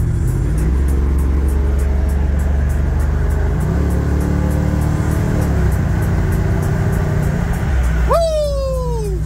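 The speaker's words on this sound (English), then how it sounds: "I'm trying to drive a car" A car engine drones loud and close for several seconds, rising and falling as it is driven and revved, and ends in a sharp sweeping whine near the end.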